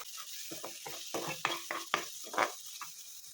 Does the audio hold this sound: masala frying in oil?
yes